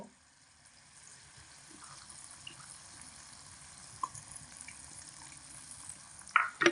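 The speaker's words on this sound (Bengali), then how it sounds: "এবার এই সর্ষে আর পোস্তর বাটিটা ধুয়ে জল দিয়ে দেব" Rinse water from a bowl of mustard and poppy seed paste poured into a pan for a bean gravy, a faint watery trickle and low hiss building gradually, ending in a couple of sharper sputters and clinks, no talking.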